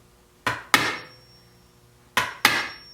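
An awl with a rubber bumper on its haft is hammered into a cowboy boot sole to punch peg holes, giving four sharp, close knocks in two pairs, each pair about a quarter second apart with a short ringing decay.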